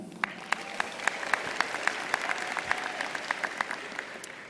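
An audience at a university social work winter commencement claps for the platform party, a steady round of moderate applause with distinct sharp claps standing out above the wash, heard from within the hall.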